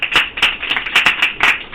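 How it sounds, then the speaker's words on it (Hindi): Classroom students clapping for the top scorer on a test: brisk, close, uneven handclaps in quick succession from a small group. "खड़ी हो जाओ, ताली बजाओ इस बच्ची के लिए"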